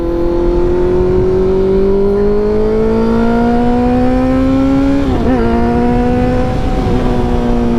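Honda motorcycle engine while riding, a loud steady drone that climbs slowly in pitch, briefly wavers as it shifts, then settles, with constant road and wind rush underneath.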